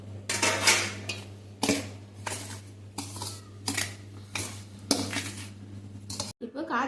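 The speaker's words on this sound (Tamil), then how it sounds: "மிக்ஸ் பண்ணிட்டு வறுத்து வச்சிருக்க அண்டி பருப்பை போட்டு அண்டி பருப்பையும் போட்டு எல்லாத்தையும் ஒன்றா கிளறிட வேண்டியதாம்மா" A spoon scrapes and clinks against a metal pan while semolina, sugar and roasted cashews are stirred together for rava laddu, giving repeated bright metallic strokes over a steady low hum, with quiet speech in places.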